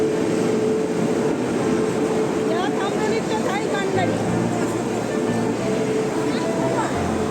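The Tamralipta Kandari express train arrives, rumbling and rattling close by with a steady loud roar and squealing metallic tones, while people talk faintly in the background.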